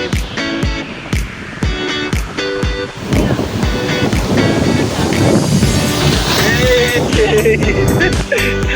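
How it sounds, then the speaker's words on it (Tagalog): Strong ocean waves surge and crash on the Ilocos shore, loud and close, building into a sustained roar with wind buffeting the microphone. "Ang lakas ng alon eh."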